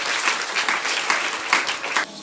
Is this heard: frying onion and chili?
no